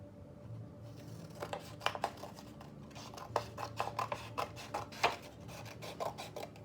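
Scissors snip through paper strips for a weaving craft in quick, close bursts of crisp cuts, with pauses between clusters over a low background hum.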